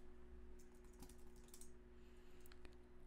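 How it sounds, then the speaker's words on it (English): A computer keyboard clacks as a command is typed into a terminal: a short burst of fast, light keystrokes, then a pause and a few last taps, over a steady low electrical hum. "Terminal open. I'm going to type npm init."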